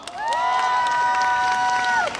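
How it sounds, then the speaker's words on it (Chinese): A rally crowd cheers and claps loudly and continuously, with a long sustained whistle-like tone rising above the din for about two seconds before it fades. "给自己一个掌声好不好？"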